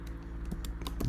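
Quick keystrokes on a computer keyboard while entering a file name in screen recording software, a brisk run of close, crisp taps.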